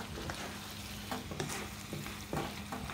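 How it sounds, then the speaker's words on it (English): Taco pie filling simmers and sizzles steadily in a pan, a continuous soft frying crackle with a few brief stirring scrapes, no talking. "I'm gonna let this simmer for a little bit."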